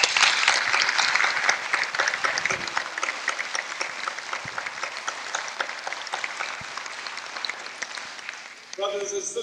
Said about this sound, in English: Jason Muhammad, the Minister of Long Beach, a round of applause.